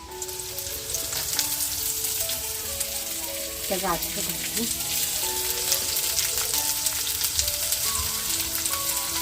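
Chopped cabbage, onion greens, carrot, mint and capsicum sizzle steadily in a hot pan, a continuous close frying hiss with a brief stir-like clatter midway and faint talk in the background.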